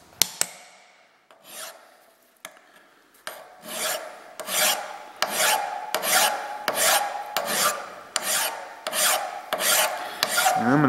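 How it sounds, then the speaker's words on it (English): A hand file rasps across metal on a toolmaker's adjustable V block in a series of about a dozen regular, close strokes, starting sparse and settling into a steady back-and-forth rhythm with no talk. "I'm going to switch to a finer file here in a minute. Few more strokes here."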